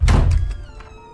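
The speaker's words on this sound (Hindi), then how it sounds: "कुछ ही देर बाद अचानक से हैरी के कमरे का दरवाजा खुलता है।" A room door suddenly swings open with a heavy close thump and a short rattle, then fades into a faint ringing creak.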